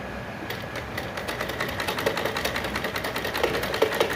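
A sewing machine stitches a frill onto a baby frock made from waste cloth, running in a fast, even mechanical chatter with rapid regular needle strokes, close and alone.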